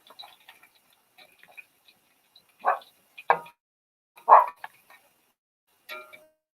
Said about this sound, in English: And so now she's barking at everything and anything